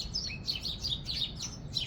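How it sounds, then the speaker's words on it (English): House sparrows chirp in a rapid run of short, high tweets outdoors on a city street, fairly faint over low traffic hum. "In my videos, there are always birds, and today we get sparrows"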